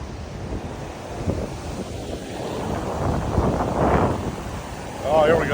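Surf pounds against a sea wall in hurricane-force winds, a continuous roar of crashing water and heavy wind buffeting the microphone, building louder toward the end.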